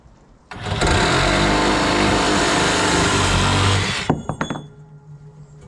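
A power saw cuts a piece for a hot tub subpanel to length, starting with a loud, steady whine that runs for about three and a half seconds, then stops abruptly, followed by a few clinks and faint handling noise.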